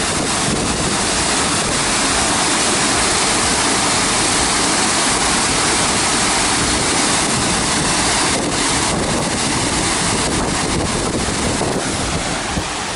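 Heavy water spray from a waterfall roaring outdoors as a loud, dense, continuous rush with wind buffeting the microphone, steady throughout with no break.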